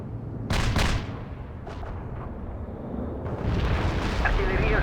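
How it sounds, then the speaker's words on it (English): An artillery barrage in World in Conflict lands as heavy booming blasts, a big impact near the start and smaller ones following, then a rumbling roar builds toward the end, with voices talking underneath. "We can deploy and lay down a heavy barrage."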